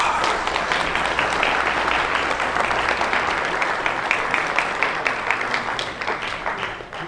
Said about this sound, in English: please give a big hand to Chris Jones.